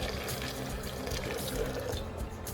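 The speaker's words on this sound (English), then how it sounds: "With boiling water we will clean up, wash" Boiling water streams from a kettle onto crushed microchip pulp in a home chemistry setup, a continuous soft splashing pour that stays faint and steady throughout.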